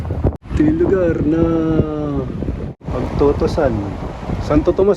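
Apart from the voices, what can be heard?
strong wind blowing on microphone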